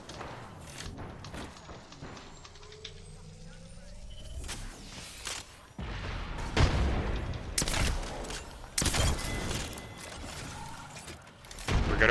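Rapid bursts of gunfire in a shooter video game, with sharp loud volleys clustering in the second half amid scattered impacts and movement, while players talk excitedly over the action.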